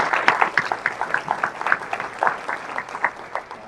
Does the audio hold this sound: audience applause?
yes